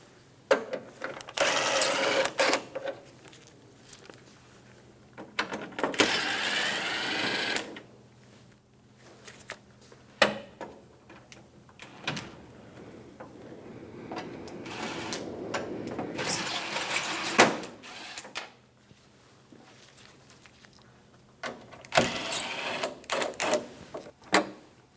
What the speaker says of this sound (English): Remove the 4 7mm screws on the top of the grille.